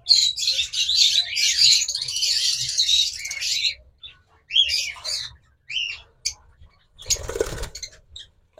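A pair of lovebirds offered for sale chirps in quick, high, busy bursts, with short pauses and a brief rustling flutter near the end, fairly close.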